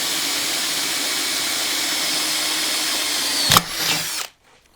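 A power drill bores a hole for an aftermarket tail light on a BSA 441 Victor motorcycle, whirring steadily and close, surging briefly as the bit breaks through, then stopping abruptly.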